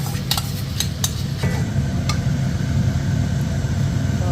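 A spoon scrapes and clinks in a pot while mixing a biryani masala of yogurt, tomato, mint and chillies, with steady low stirring noise and a few sharp metallic taps.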